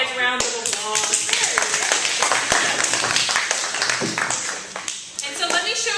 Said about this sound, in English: Could you give these guys a round of applause?